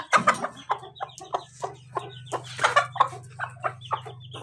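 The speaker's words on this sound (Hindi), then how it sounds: "ये मुर्गी है," A chicken clucks repeatedly at close range, a string of short throaty calls over a low steady hum.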